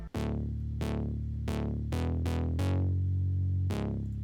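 Synth bass layer with its low end cut, added for extra punch in a house-style drop: a steady run of seven plucky, bright-attack notes, each decaying quickly over a sustained low tone, played alone.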